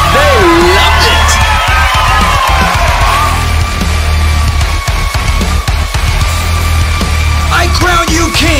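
Crowd cheering in the rhythm game Stepmania 5: a dense, continuous wash of yells and whoops runs loud throughout, with voices rising above it.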